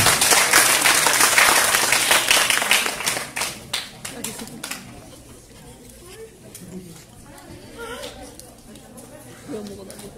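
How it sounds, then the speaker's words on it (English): A school roadshow audience bursts into loud, close applause that thins out after about four seconds into scattered claps, then gives way to murmuring chatter and voices. "Let's give him a warm of applause"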